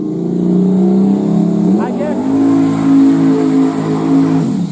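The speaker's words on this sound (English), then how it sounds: "The Mazda is going against the Civic again." A Mazda RX7 engine drones loud and steady, then climbs in pitch as the car accelerates in a drag race against a Honda Civic, with people talking over the engine.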